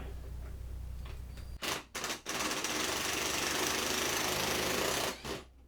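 A screw being backed out of a homemade router lift in a woodworking shop, heard as short bursts of loud mechanical whirring, likely a driver, with brief pauses before one long sustained run and a final short burst.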